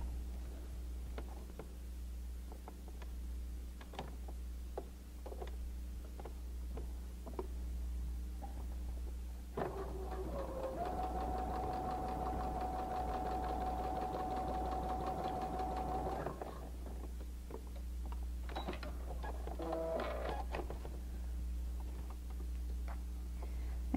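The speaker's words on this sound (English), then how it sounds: "now we're going to sew on the line between number 2 and 3" Sewing machine stitching fabric pieces of a Christmas mug rug, a steady mechanical whir for several seconds, framed by small clicks and handling sounds over a low background hum.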